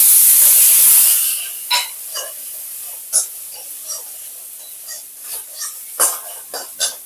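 Ground black pepper paste and ginger frying in a little oil in a pan: a loud hiss of steam bursts out at first, then eases into a scattered crackle of spitting pops. The sound is close, with no talk.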